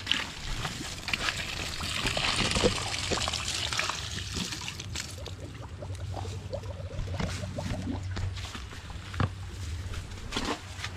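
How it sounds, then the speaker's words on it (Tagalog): Water is poured into a container at a rural household in the Philippine countryside, a steady trickling and splashing flow with irregular patter across the whole stretch, fairly close and without talk. "lagyan natin ng tubig niya"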